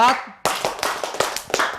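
A teacher claps a counting pattern in a classroom micro-teaching lesson: a short voice at first, then a run of sharp, close, evenly spaced hand claps.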